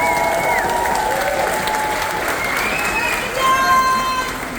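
Crowd applause from passengers aboard a cruise ship, a sustained wash of clapping under a host's amplified voice and some tonal music, swelling slightly near the end.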